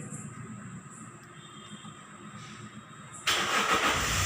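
A car engine cranks and starts during a home parking lesson, with faint background hum before the engine catches and settles into a loud, steady idle near the microphone.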